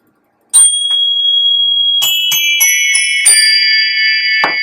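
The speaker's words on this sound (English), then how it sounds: "Let's ring the bell for them." A small hand bell rung in several separate strikes, first single dings then a quicker run of overlapping rings whose tones hang and sustain, bright and close, with no talking.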